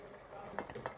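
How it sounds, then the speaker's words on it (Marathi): Brinjals drop into spiced masala frying in oil, giving a soft, steady sizzle with a few sharper stirring scrapes near the end. "आता आपण त्यात वांगे टाकू।"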